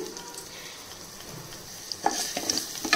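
Garlic, mustard seeds and cumin fry with a steady soft sizzle in a pan for a thotakura curry, with scraping stirs and small crackles growing louder toward the end, and no voices.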